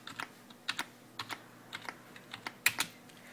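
Typing a command on a ZX-Uno computer keyboard, a quick irregular series of close, crisp key clicks with brief pauses between taps, alone in a quiet room.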